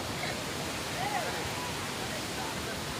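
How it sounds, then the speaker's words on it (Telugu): Nambi waterfall roars as a steady, dense wash of falling water heard close by, continuous and fairly loud with no talk. "Nambi water fall"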